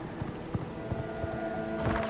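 Horse in the video game V Rising near a werewolf, with soft repeated hoof clops at a walking pace over a steady low game ambience and music drone.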